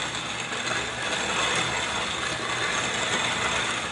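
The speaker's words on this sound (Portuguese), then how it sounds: "A gente acrescenta o malte no moinho. Esse é o moinho manual, que é o primeiro moinho que todo cervejeiro caseiro começa." A hand-cranked manual grain mill grinds malt for homebrewing, making a steady, close, loud mechanical grinding and ratcheting churn that runs continuously without a break.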